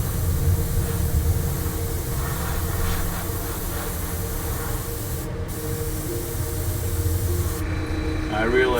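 A steady airbrush hiss lays a white paint coat over a 1/48 Zvezda Su-57 scale model, continuous and close for the whole stretch, with a brief pause midway and a short break near the end.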